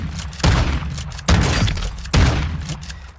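A Bryson 800 shotgun fires three loud, close booming blasts in a video game, evenly spaced about a second apart, each followed by a short decaying tail, no voices.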